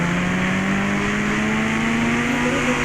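A motorcycle engine in the Indian Fun Bike Driving 3D video game revs steadily, its pitch slowly rising as the bike accelerates, loud and continuous with no talk over it.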